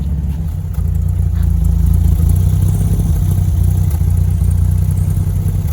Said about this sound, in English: let me start the car up